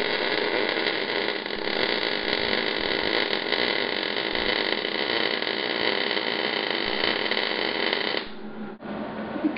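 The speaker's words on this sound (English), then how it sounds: "Let's try a bead with the Hobart handler 140." A Hobart Handler 140 MIG welder lays a bead on 1/8 inch steel, giving a loud, steady crackling hiss that runs unbroken for about eight seconds before stopping abruptly, with faint handling noise afterward.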